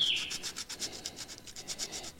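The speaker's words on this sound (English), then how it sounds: "I'll put a little scuff on this piece of plastic here." A piece of plastic being scuffed with an abrasive in quick, regular back-and-forth rubbing strokes, close and fairly quiet, with no voices.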